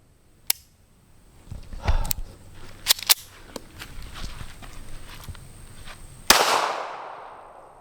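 Sharp cracks from a Smith and Wesson Bodyguard pistol firing at a range: a few scattered reports, then one loud, close shot near the end with a lingering ring-out. No talking.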